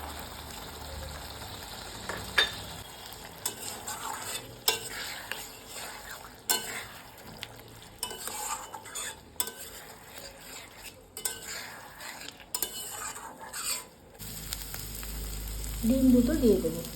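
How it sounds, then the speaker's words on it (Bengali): Boiled potato being stirred and fried in a pan brings repeated scraping and clinking of a utensil over a low, continuous sizzle, with irregular knocks throughout and a faint voice near the end. "এখন আমি সিদ্ধ আলুটা দিয়ে দেবো।"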